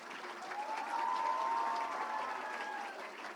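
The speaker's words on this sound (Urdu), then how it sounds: "تو ان کے لیے بھرپور تالیاں ہونی چاہیے" Audience applause at a youth programme launch event in a university hall, a brief soft wash of clapping lasting a few seconds, heard from a distance with a faint tonal hum beneath.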